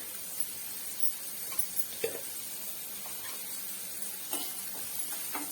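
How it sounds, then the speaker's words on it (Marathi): Chopped kantola (spiny gourd) is stir-fried in a pan with salt, giving a faint steady sizzle broken by a few soft clinks and scrapes of a spatula, with no talk. "पुन्हा एकदा परतून घेऊया"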